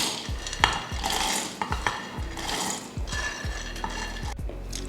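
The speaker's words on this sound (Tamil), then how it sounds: "இதை ஒரு மிக்சியில் மாற்றிக்கலாம், மிக்சி ஜாரில் மாற்றிக்கலாம்." Roasted, skinned peanuts are tipped into a mixer jar in a kitchen, making close, sharp clinks and a rattling clatter of nuts and metal in several uneven bursts, with no speech.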